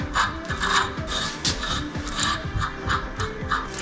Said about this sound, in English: So let's put the new bolt in, and here is this slot.